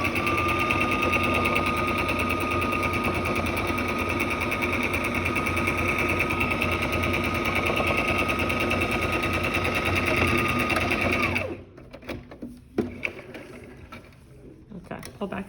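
Sewing machine finishing the last raw edge of a home-sewn mask, a loud steady whirring run with a rapid needle rhythm for about eleven seconds, then stopping abruptly into a few quiet handling clicks and rustles.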